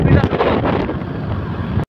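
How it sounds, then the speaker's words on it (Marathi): Strong wind buffets the microphone outdoors on a morning visit to a hilltop temple, a loud continuous low rumble with gusty swells lasting under two seconds before cutting off abruptly. "आताचं वातावरण असं आहे, वारा"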